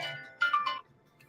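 An incoming call on a phone-line show sounds a short electronic ringtone: a quick run of three bright, even beeps close to the microphone, with a quiet background before and after.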